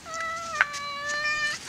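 A cat lets out a single clear, drawn-out meow at close range, lasting over a second, with a brief higher squeak partway through.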